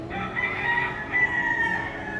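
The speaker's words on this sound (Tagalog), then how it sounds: "Yung mga manok, andyan lang sila." A rooster crows nearby, one long drawn-out call that holds steady for about two seconds.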